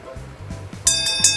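A timer alarm signals that time is up during a mother-and-son guessing game, sounding as a few loud, bright electronic bursts over a low repeating pulse, fairly close and with no talking.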